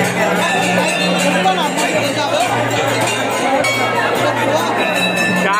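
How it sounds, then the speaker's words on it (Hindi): Large crowd at the Tarkulhi Devi temple fair, a dense babble of many voices with a few metallic clinks mixed in, loud and unbroken, while someone speaks close by over it. "जबरदस्त भीड़ है, दर्शन करना भी बड़ी मुश्किल हो रहा है"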